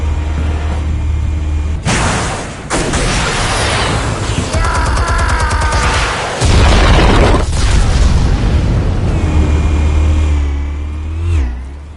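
Explosives detonating in Batman: The Telltale Series: a loud rumbling boom that swells into a sustained roar of blast debris and crackling, with engine-like rumble beneath, heavy and close over several seconds.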